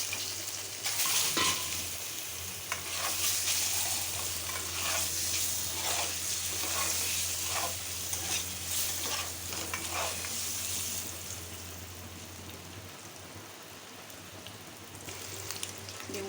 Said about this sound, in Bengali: ডিমগুলোকে ভাজতে দেবো